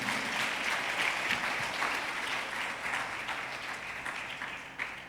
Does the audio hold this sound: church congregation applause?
yes